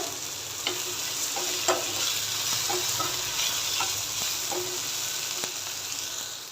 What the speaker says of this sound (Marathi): आता दोन ते तीन मिनटं फक्त परतून घ्यायचं आहे आपल्याला